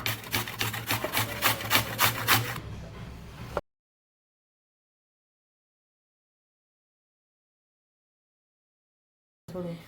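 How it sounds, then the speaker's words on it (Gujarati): Carrots rubbed finely against a grater for a Gujarati curd salad, a close rhythmic rasping of steady strokes for a few seconds, then trailing off into silence. "ગાજરને પણ આપણે એકદમ સરસ ઝીણું ઝીણું ખમણી લેવાનું છે આવી રીતે"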